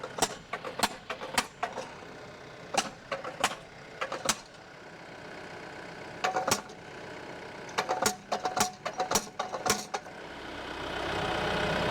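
A tractor-mounted post driver drives steel T-posts along a fence line, giving sharp, fairly quiet impacts in irregular bursts over a low mechanical background.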